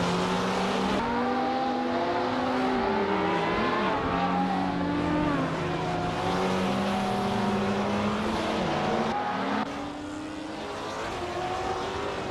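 Race cars in a racing game scream around the track with continuous high engine whine, shifting pitch as gears change and cars jostle closely, steady and loud throughout without speech.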